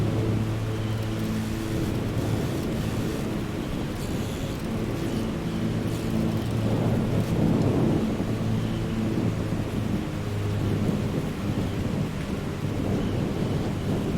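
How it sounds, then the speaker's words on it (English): Strong wind and stormy weather buffet a Cessna 310R in Microsoft Flight Simulator, a loud continuous roar mixed with a droning engine hum, with no talk over it. "Super windy up here today, as you can hear."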